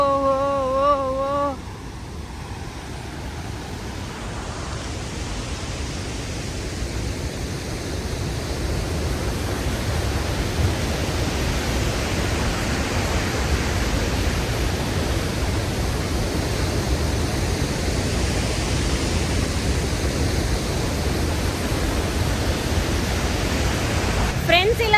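Victoria Falls in Zimbabwe roars as a steady, dense wall of rushing water that fills the whole clip without a break, with brief faint tones near the start.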